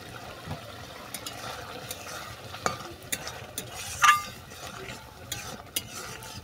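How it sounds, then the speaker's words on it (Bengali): Fried raisins stirred into a vegetarian taro curry in a pan, with scraping spoon strokes and soft sizzling, plus a sharp clink of utensil against the pot midway. "কিশমিশগুলোকে ভালো করে মিশিয়ে নিয়েছি"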